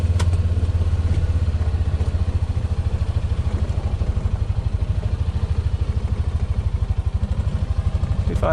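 A Honda Pioneer 700 Deluxe side-by-side runs close by at a steady idle, a continuous low throbbing engine pulse with faint mechanical clatter, and no one talks.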